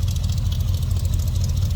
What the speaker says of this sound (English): Nice little rumble coming out of that V8.